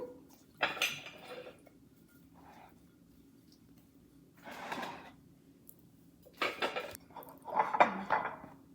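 Cherry tomatoes go into a baking dish in a few separate bursts, close clattering knocks and clinks of dish and utensil with quiet pauses between, no talk.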